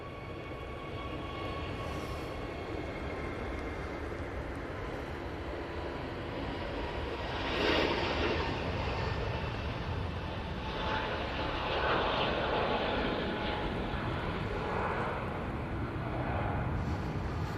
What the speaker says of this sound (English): Jet2 A321 now on the roll.